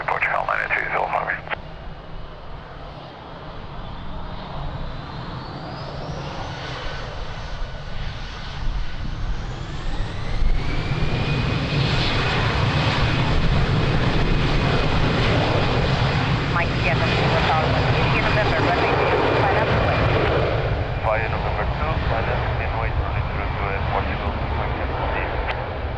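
An airliner taking off from runway 02 at Lisbon Airport on a windy day, its engine roar swelling and holding steady at a distance, with radio chatter from the tower over the start.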